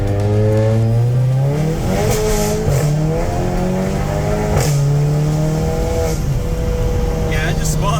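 VW MK7 GTI tires spinning and squealing during a hard launch, the engine revving up in rising sweeps as the car pulls away, loud and close, with voices talking over it.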